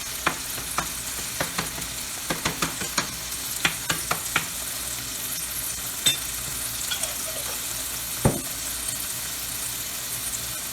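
Minced garlic frying on light medium heat in a pan, a steady soft sizzle with a series of sharp stirring clicks and scrapes scattered throughout, no voices.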